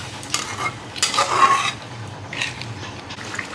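Water poured into a pan of paneer capsicum masala, a hiss and bubbling sizzle swelling briefly then settling into a soft, steady simmer with faint scraping, alone without any voices.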